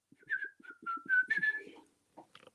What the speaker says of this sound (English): I whistle while I work.